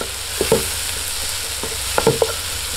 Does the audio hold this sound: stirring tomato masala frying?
yes